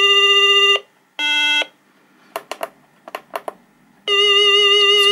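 A DIY electronic synthesizer kit gives a warbling tremolo tone like a telephone ring: two short ringing bursts, then a few clicks and taps, then a longer ring at the end, close and loud.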